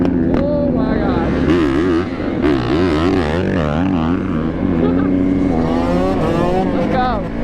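Two-stroke dirt bike engines racing at a lot, loud and close with wavering, rising and falling revs throughout, continuous with no break.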